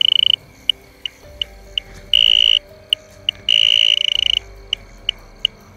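An electronic alarm beeps in short regular pips, broken by two longer sustained tones, loud and close in a dim, tense setting during a ghost-hunting outing.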